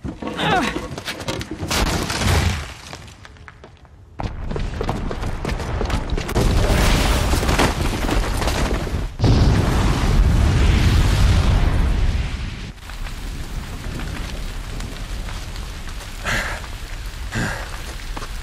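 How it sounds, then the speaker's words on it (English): A booby-trapped bomb blowing up in Horizon Zero Dawn, with a long roaring, rumbling blast and crackling debris that swells after a brief lull, then decays into continuing noisy rumble with voices at times. "the booby trap on the bomb downstairs is gonna get set off"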